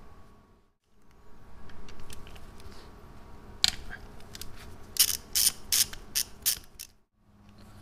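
A ratchet loosening a 10mm bolt during a Mitsubishi Evo X clutch install: faint shop noise, then a single sharp click followed by a rapid series of loud, close ratcheting clicks.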